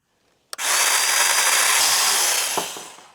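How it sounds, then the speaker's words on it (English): A power cutting tool starts abruptly and cuts a 22-degree angle during a monitor-arm build, running as a steady, loud, high whine for about two and a half seconds before easing off with a small knock. "now we're going to cut a 22-degree angle here"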